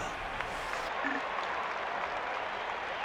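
A continuous roar of crowd noise from a Super Mega Baseball 2 ballpark, dense and steady like cheering and clapping, filling the clip without a break.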